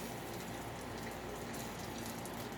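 Water poured into a hot pan to deglaze it while making asparagus soup with rosemary, a steady broadband rush of pouring and sputtering that runs evenly throughout, close and without talk.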